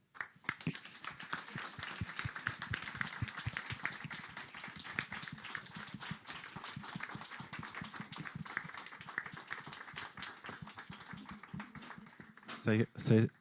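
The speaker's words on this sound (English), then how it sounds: "huge, huge thanks, and a round of applause" Clapping from a small group after a final presentation on inclusive living, dense and steady for about twelve seconds with a louder burst near the end.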